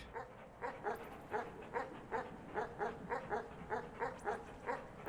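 A dog in the video game Animal Well barks in a steady, rapid series of about a dozen short yips, quiet and evenly spaced over a soft background hum.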